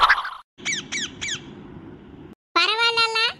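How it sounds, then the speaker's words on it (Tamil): A parrot squawks close by in a short series of sharp calls: three quick squawks followed by a longer, harsher cry. "ஒரு கிளி என் தலையில உட்கார்ந்துருச்சு"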